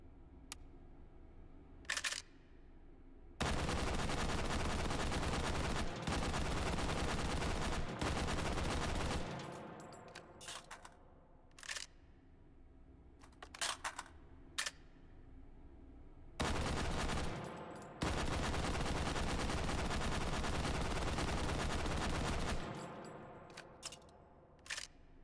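Heckler & Koch automatic rifle fire in the VR shooter Hot Dogs, Horseshoes & Hand Grenades, with long sustained bursts and several short isolated shots between them, loud and close, with no talking.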